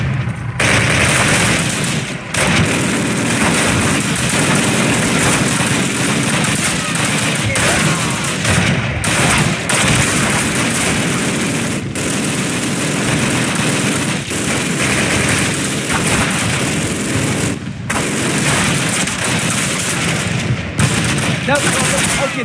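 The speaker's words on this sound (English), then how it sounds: "Get to their flak gun and turn it on that tank!" A flak gun in Call of Duty (2003, PC) at Pegasus Bridge fires in loud, sustained automatic bursts for over twenty seconds, broken by brief pauses, with explosions and battle noise mixed in.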